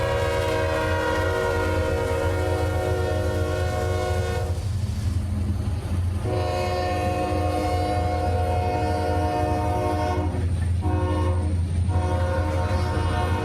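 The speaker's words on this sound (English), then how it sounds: "A myriad of CSX locomotives would be leading this train, but not one alike." A CSX freight train led by an ES40DC, an AC44 and a rebuilt SD40-3 rumbles past close by with a loud, sustained diesel drone, its horn sounding in long chord blasts between short breaks.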